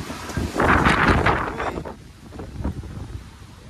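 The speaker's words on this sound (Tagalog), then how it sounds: "Tinatakay tayo ng hangin dito." Strong gusts of wind buffet the microphone, loud rumbling bursts that ease into a lighter, fluttering breeze.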